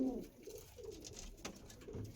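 Andhra pigeons, a red-flecked breeding pair in a loft, give soft throaty coos in short repeated phrases, fairly faint and close, with light background rustle and no clear talk.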